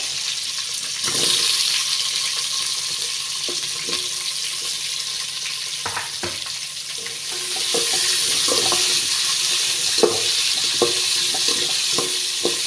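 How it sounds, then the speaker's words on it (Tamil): Onions sautéing in a pan with oil for a Tamil fish fry dish, a steady loud sizzle running throughout with repeated sharp clinks and scrapes of a spoon stirring, the frying hiss swelling louder in the latter half. "கூட வெங்காயம் சுட்டுக்கிறேன்"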